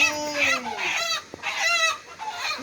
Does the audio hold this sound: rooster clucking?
yes